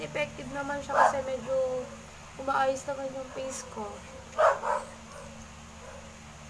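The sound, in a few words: dog barking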